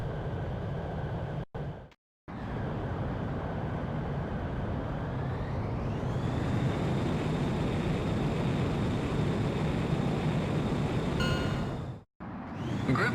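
Fighter jet in the Ace Combat X video game spooling up and taking off, a loud steady roar whose pitch climbs midway, broken by a few abrupt cuts, with no voices.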